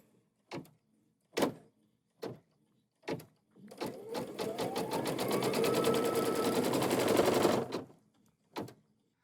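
An embroidery sewing machine stitches a quilt block in the hoop, starting with a few separate clunks, then running in a steady rapid needle rhythm for about four seconds before stopping with a final couple of knocks; close and loud, no talking.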